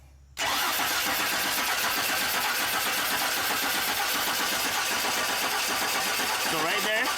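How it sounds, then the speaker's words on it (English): A 2002 Chevy Silverado engine that will not start cranks continuously in a rapid, rhythmic churn that begins abruptly and runs without catching, loud and close. "so now let's crank the engine"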